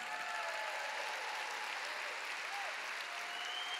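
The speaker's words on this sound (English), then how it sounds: "Give Ray McCauley a big clap." Applause from a congregation at a church healing conference, a continuous wash of clapping, fairly faint and distant, sustained for several seconds without speech.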